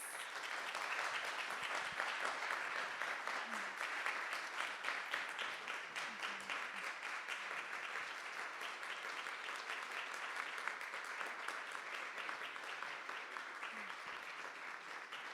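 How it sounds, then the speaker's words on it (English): A large audience at a Library of Congress Millennium Stage event gives the speakers a steady, sustained round of applause, the dense clapping filling the room evenly from start to finish. "Please give a big round of applause to our speakers."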